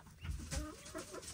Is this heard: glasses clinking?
no